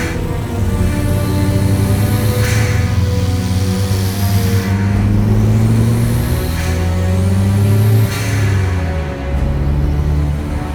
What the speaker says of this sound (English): I'm quite worried of the noise that's coming from the gearbox when the car is idling.